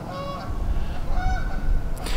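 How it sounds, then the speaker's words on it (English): Geese honk several times at a moderate distance over a low outdoor rumble, their calls rising and falling in short bursts. "I hear the geese."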